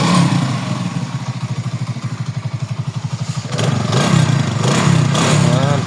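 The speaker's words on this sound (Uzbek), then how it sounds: "Motorcha zo'r ishlayapti lekin, ha." A Minsk motorcycle engine runs close up with a rapid, even thumping idle, then swells as the throttle opens and stays loud, with faint voices.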